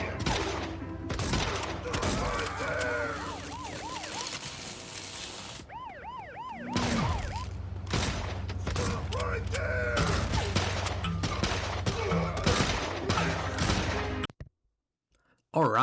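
Police sirens wail in a Grand Theft Auto–style game built in Dreams on PS4, with rapid bursts of gunfire and a busy mechanical din throughout, and a short silent gap before the end.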